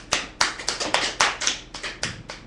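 Hands clap in praise, about ten sharp, close claps in a loose, uneven rhythm over a couple of seconds, with no talking.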